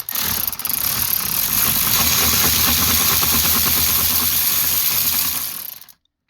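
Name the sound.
ratchet with swivel removing bolt on pedal adjuster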